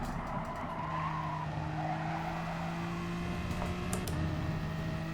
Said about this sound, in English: You can hear the understeer eating away at those front tyres